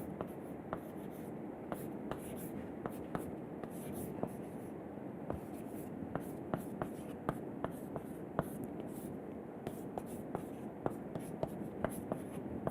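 Chalk taps and scrapes against a lecture-hall board as an equation is written, a steady run of short sharp strokes and clicks, close and fairly loud, with faint murmuring in the background.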